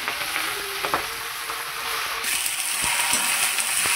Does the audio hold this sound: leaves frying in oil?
yes